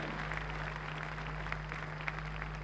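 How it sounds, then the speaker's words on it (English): Church congregation applauding together, a steady wash of crowd clapping heard at some distance over a constant low electrical hum, with no break through the stretch. "Let's clap for wonderful Jesus Christ once again."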